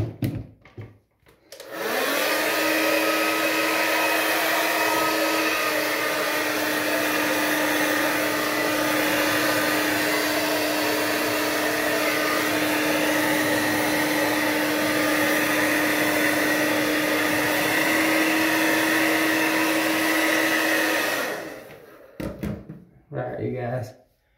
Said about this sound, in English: I got a blow dryer right here.